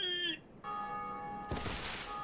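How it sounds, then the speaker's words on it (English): Resonant bell in Dark Souls Remastered rings with a long sustained tone, a fresh strike landing partway through amid ambient game sound. "There's another person ringing that bell."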